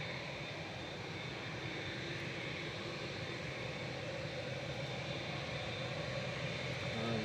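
Jet engines of a Qatar Airways Boeing 787-9 departing Manchester Airport for Doha give a steady, sustained roar at moderate distance, holding even throughout.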